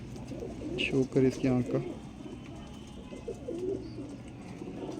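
A Sialkoti pigeon in a breeder's loft gives a few soft, close coos in quick succession early on, with someone talking over and after them.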